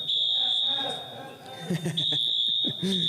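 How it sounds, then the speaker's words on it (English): A smoke detector sounds a continuous high-pitched electronic tone, briefly cutting out before resuming, while people talk over it during a Valorant esports broadcast. "Oh, that's not good. That's the smoke detector."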